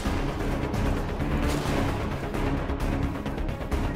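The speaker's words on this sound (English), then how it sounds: "there's a lot of people shooting down there." Gunfire from a crowd of players shooting in Grand Theft Auto V, a dense, continuous barrage of distant shots and booms blending into a steady rumble.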